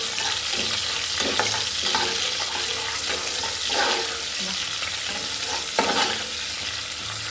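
Chopped onion and two green chilies frying in hot oil as a tempering for biryani, a steady loud sizzle with scraping stirring strokes throughout.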